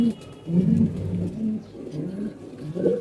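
Pigeons coo close by, several low throaty phrases rising and falling in quick succession, with no talk over them.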